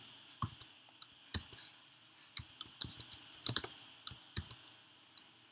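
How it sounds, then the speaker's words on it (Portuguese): A computer keyboard is typed on up close while working in Python's IDLE editor, with about fifteen sharp, separate clicking keystrokes spread unevenly across the stretch, some in quick pairs, ending with an Enter press, and no talking. "Dou Enter, Fábio F Carvalho."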